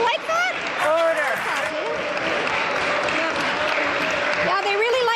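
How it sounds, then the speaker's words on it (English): Legislators in Question Period break into sustained applause, a dense wall of clapping that fills the chamber from start to finish while voices rise and call out over it. "They really like to applaud themselves."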